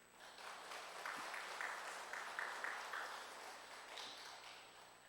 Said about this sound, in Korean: 격려의 박수를 보내드립니다.